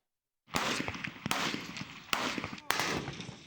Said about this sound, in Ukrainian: Зараз до них по плану стрільба.